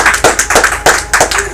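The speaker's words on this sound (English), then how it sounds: "Oh, come on, we can do better with applause than that." A small classroom group claps briefly, a handful of loud, close, fairly regular claps in quick succession.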